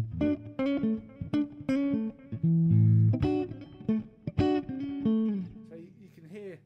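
An electric guitar's neck humbucker played with the coil split, giving a sweeter, thinner tone; a series of plucked notes and short chords rings out clearly and alone, with no voices over it.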